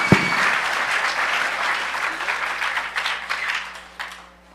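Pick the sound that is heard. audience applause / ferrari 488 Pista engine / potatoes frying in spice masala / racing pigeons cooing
audience applause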